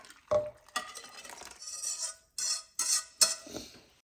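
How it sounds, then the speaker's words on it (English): A utensil slowly stirs a smooth mixture into a pot of creamy chicken and wild rice soup, making intermittent close scraping and clinking strokes separated by short quiet gaps. "I'm gonna slowly just stir this in"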